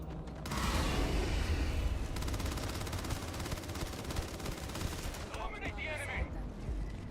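Shotgun fire in Starfield, a sustained barrage of heavy, close blasts and rapid gunfire that runs almost continuously and then thins near the end, with a voice partly mixed in.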